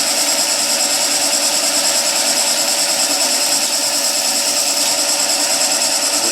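Woodturning lathe tool cutting a spinning timber blank, a steady, loud, dense hiss and whir that holds unbroken throughout with no voices.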